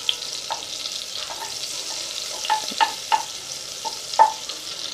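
Butter and oil sizzle in a pan for pav bhaji, a steady soft crackle broken by a few sharp pops and light stirring clicks, with no talking.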